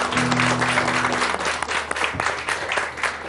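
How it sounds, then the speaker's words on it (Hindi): A television studio audience claps together in dense, sustained applause that stays steady for several seconds, with a brief tone heard at the start. "तालियां होनी चाहिए लोगों के लिए। 1 2 3 एंड गो।"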